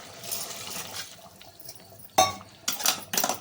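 Quiet kitchen room tone, then bursts of water splashing and pouring into a pot for cooking mutton, several short pours near the end.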